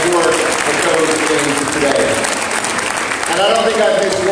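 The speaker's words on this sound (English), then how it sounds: "Let's give a round of applause" A crowd at an MLK community breakfast in Pacoima, California, applauds in a continuous, loud round of clapping, with voices talking faintly beneath it.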